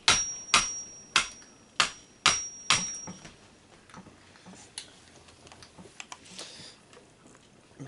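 Six sharp, evenly spaced hammer blows ring out close by, driving a tool like a chisel into a 2001 Saab 9-5 turbo throttle body during teardown, followed by fainter scraping and light taps.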